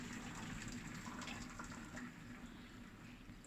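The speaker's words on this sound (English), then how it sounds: "it's just cooked, so I'm just gonna drain it." Steady gushing pour as water is drained off just-cooked Persian rice, a continuous close splashing flow that eases slightly toward the end.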